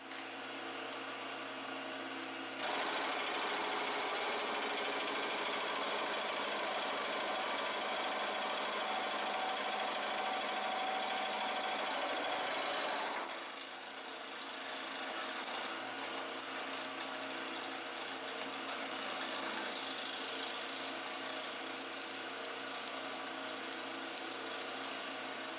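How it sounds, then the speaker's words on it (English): A facing carbide milling cutter surfaces a metal part in a home shop, producing a loud continuous grinding, chattering machine drone that swells during the cut and then settles into a steadier running hum. "I'm using a facing carbide mill. Milling cutter, I should say."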